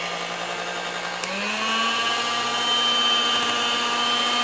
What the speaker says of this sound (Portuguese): agora eu vou bater com a batedeira